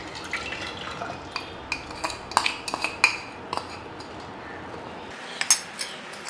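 A spoon clinks and scrapes against a pot while jaggery syrup is stirred into medicinal rice gruel, scattered light taps and knocks close up, quiet and irregular, with no talking.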